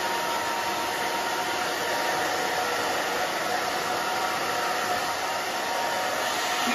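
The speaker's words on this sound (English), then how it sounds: "Put your hands in the blow dryer." A handheld blow dryer runs continuously while styling a woman's short pixie cut, a steady close whooshing whine with no pauses.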